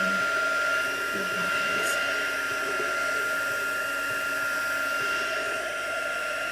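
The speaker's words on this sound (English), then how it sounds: "chase those drips with your heat gun so they dry as they go" A heat gun drying paint drips during Christmas crafting: a steady, loud, close whirring blast of air that runs without a break, with a few faint words spoken behind it.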